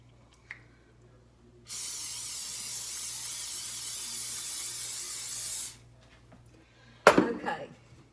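A steady hiss of cooking spray coats baking pans for dessert cups, one sustained burst of about four seconds, preceded by a faint click and followed by a sharp clatter of a pan being handled.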